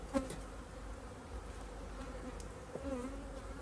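Honey bees at an opened top bar hive, a faint continuous buzzing hum with a couple of louder passes as individual bees fly close, no speech.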